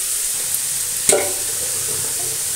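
Vegetables with chilli frying in a pan for chowmein, heard as a steady close sizzle with a single sharp clink of a utensil partway through.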